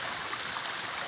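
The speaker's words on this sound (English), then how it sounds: "Every little alcove is a cute little stream and waterfall." A small stream and waterfall trickle down a hillside alcove on a California morning, giving a steady, broad wash of running water that stays even and fairly close throughout.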